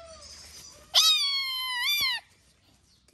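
A stray kitten gives one loud, drawn-out meow with a rising then falling pitch, close and clear against a quiet background.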